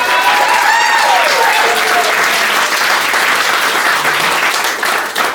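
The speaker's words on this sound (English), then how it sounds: "I think her dress deserves its own round of applause right now." Wedding guests at Le Petit Chateau applaud the bride's dress, with loud, continuous clapping filling the room and a brief voice and whistle-like tones near the start.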